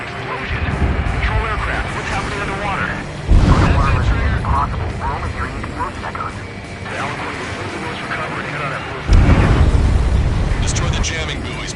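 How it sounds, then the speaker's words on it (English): A huge underwater explosion in a video game sounds as two loud, deep booming blasts, the first around three seconds in and the second near nine seconds. Rumbling wash and voices fill the spaces in between. "A huge explosion just went off underwater."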